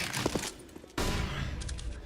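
Rapid gunfire in a Counter-Strike match, with several quick shots fired through a wall, followed by a loud sharp burst and a steady crackle of further fire.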